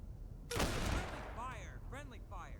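A burst of friendly gunfire from an ally in the Half-Life: Black Mesa video game, a loud rapid volley lasting about half a second, followed by someone talking.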